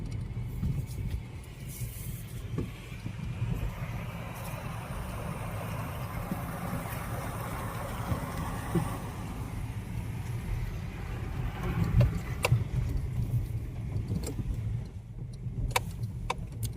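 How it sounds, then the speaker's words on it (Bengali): A car crossing a stream of water running over a mountain road in Spiti Valley, Himachal Pradesh, a steady engine rumble with rushing water underneath and a few sharp knocks and splashes toward the end. "এখানে একটা ওয়াটার ক্রসিং রয়েছে, এখানে রাস্তা পুরো জল নেমে আসছে।"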